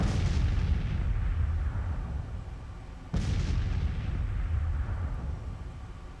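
Massed musket volleys from Civil War infantry armed with Springfield rifle muskets rumble as a dense, continuous roar of distant gunfire, with a fresh burst swelling midway and no talk.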